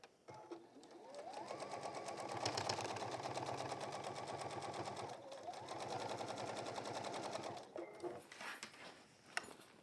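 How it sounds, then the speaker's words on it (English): A sewing machine runs a straight seam on a textile bag in two long continuous bursts, motor whirring steadily with a brief pause between runs and a few small clicks at the end. "just getting that straight line to sew down"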